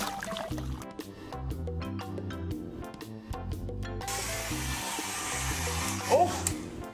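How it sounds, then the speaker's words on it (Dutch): A hair dryer blows with a steady rushing hiss through the second half, under bouncy music that plays throughout. "Ik gebruik een haardroger om mijn haar te drogen."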